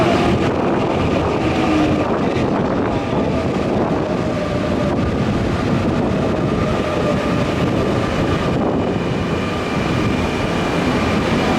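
A Nankai Main Line train runs through Sakai Station during the evening rush, a loud, sustained rumble of wheels and motors with steady rail noise, faint tonal whine and some wind buffeting on the microphone.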